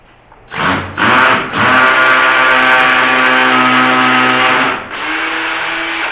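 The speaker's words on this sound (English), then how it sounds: "we're going to drill a 7mm hole in the wall." A power drill boring a 7mm hole into a wall starts in short bursts, then whines steadily and loudly for several seconds, dips briefly and resumes at a lower pitch.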